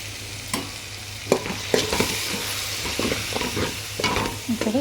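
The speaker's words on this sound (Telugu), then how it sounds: "ఈ పేస్ట్ అనేది ఇప్పుడు దాంట్లో ఫ్రై అయ్యే దాంట్లో వేసేసుకొని కొంచెం మగ్గించుకోవాలండి." Tomato and green chili paste fries in a hot tempering pan, sizzling steadily while a spoon scrapes and stirs it in repeated sharp strokes, close up with no talking.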